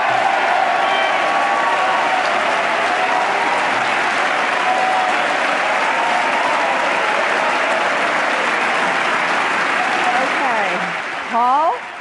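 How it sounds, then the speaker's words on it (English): Sustained, roaring applause and cheering from a packed chamber during a presidential State of the Union address, long and even before a voice emerges as it fades at the end. "that got some of the biggest applause of the night"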